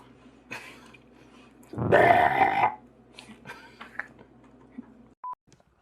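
A single loud, rough burp bursts out for about a second in the middle, surrounded by faint indoor noise and a brief electronic beep near the end.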